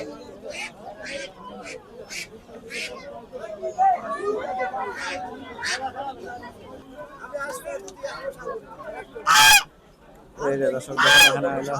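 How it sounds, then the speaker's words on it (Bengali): Muscovy ducks and domestic ducks crowd a busy poultry market, their honking and squawking calls repeating in bursts close by, mixed with people chattering, with a couple of loud, harsh cries near the end. "বেশ প্রচুর চীনা হাঁস তারপরে পাতি হাঁস গাছ আর সবই পাওয়া যায়"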